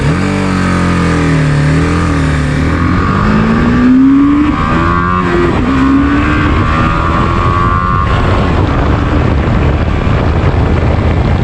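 A loud, close 2021 BMW G 310 R motorcycle accelerates hard in first gear, its engine pitch climbing steadily through a long run with wind and road roar building underneath.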